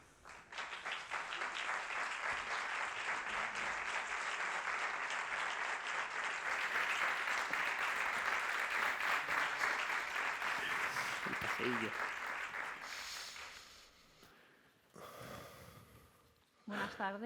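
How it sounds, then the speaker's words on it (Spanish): A festival audience applauds in a long, dense burst of clapping that fills the room, then fades out, followed by brief breathing and a voice near the microphone. "gracias por los aplausos"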